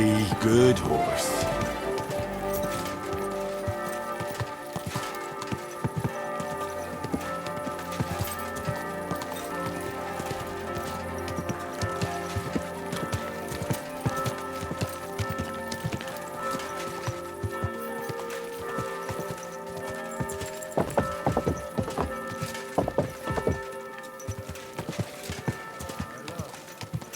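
Horse hooves clip-clop in the medieval role-playing game Kingdom Come: Deliverance II, a steady trotting rhythm running under music and ambient sound, with a voice speaking briefly.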